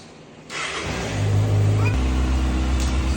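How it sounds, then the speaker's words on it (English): A Kawasaki ZX-6R motorcycle engine fires up with a sudden loud burst, then settles into a steady, close rumbling idle that holds to the end. "I'm going to start the bike."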